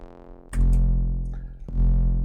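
Electric bass notes run through an effects chain, deep sustained tones with distorted attack, two plucked notes ringing loud and close.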